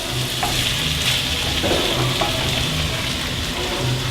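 Capsicum frying for a lamb curry, a loud continuous hiss and crackle of frying in a pan, with a few faint stirring knocks under the steady sizzle.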